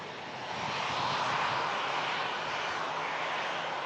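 An aircraft arrives at Manchester Airport on a gloomy, stormy day, its engine roar swelling in after half a second and holding as a broad, steady rumble at moderate distance, with no talking.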